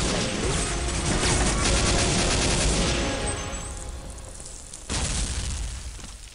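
Dense, sustained machine gun fire and crashing blasts in a video game battle, loud and continuous for several seconds before thinning out, followed by a sharp renewed burst, with no voices.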